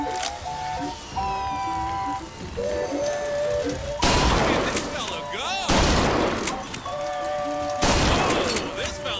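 Shotgun blasts at a carnival shooting gallery in Bioshock Infinite, several loud booming shots a second or so apart, each cutting over game music and ringing effects.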